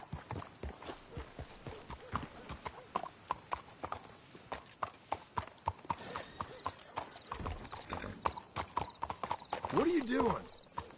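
Horse hooves clip-clopping in a video game as riders approach a spot to hitch their horses, a steady walking rhythm of clear, close hoofbeats with a brief whinny near the end and a voice speaking over it.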